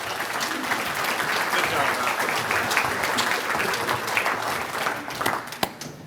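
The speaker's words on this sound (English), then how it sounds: "please join me with a round of snapping and clapping and all the things for Ed Hubel." Luncheon audience applauding and snapping after a quarterly presentation, a dense steady roar of many hands through the whole stretch, loud and close, with a few sharper claps standing out near the end.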